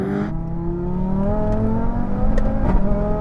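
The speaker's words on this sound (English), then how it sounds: "now we're going for a rolling race in third gear, 50 miles an hour" Several high-performance cars, a 1,000 hp BMW M5, an 800 hp Audi RS3 and a Porsche 911 Turbo S, accelerating hard in third gear from a 50 mph rolling start, engines roaring steadily with rising pitch, loud and close.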